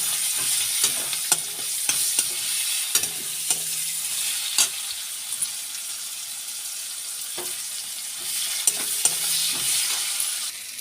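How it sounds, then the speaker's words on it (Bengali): Chopped medium onion sizzling in the oil left from frying fish, a steady crackling fry with occasional sharp stirring clicks, no voices. "মিডিয়াম সাইজে একটা কুচনো পেঁয়াজ দিয়ে দিলাম"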